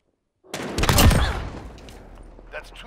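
Pistol gunfire in a video game, a loud close burst of rapid shots with a ringing decaying tail and a faint click afterward, no talking.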